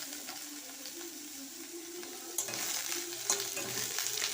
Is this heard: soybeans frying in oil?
yes